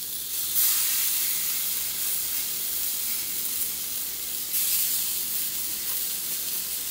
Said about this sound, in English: So now that our cast iron is heated, it's time for us to grill our jerk mushroom.